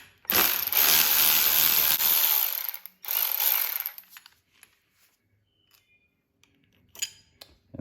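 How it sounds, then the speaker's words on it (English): A 10 mm wrench works a brake lever nut on a DRZ400SM motorcycle, producing a loud rasping metallic burst, a shorter second burst, then faint scattered clinks and taps. "I'm just gonna take my 10 millimeter wrench to hold the nut on the bottom."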